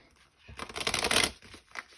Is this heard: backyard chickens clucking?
no